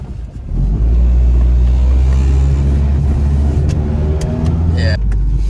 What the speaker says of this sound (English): the motor mount's got a little vibration to the engine. And that's what it sounds like